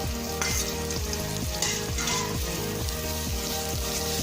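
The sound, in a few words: stirring ginger frying in a pan for mussel tinola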